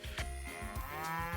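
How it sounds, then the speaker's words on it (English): A farm cow in the video game Pioneers of Olive Town gives a short, clear moo, heard alone and fairly soft. "Oh, my cow."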